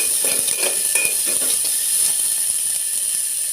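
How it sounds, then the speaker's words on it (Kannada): Oil sizzling and frying steadily in a pan for hotel-style curd rice, with a constant bright hiss and a few soft stirring scrapes and clinks, close and alone. "ಇದನ್ನು ಕೆಲವೊಬ್ಬರು ಫ್ರೈ ಮಾಡುತ್ತೇವೆ"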